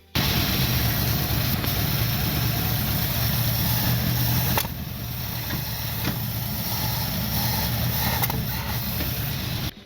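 A Ford Falcon Fairmont engine idles after a gasket repair, running rough with a steady loud drone that dips slightly midway and carries on unchanged until the end.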